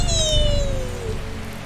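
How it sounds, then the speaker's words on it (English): A cat meows in the video game Strange Horticulture, one drawn-out, gently falling mew over a steady soft rain-like ambience. "We've got a kitty friend."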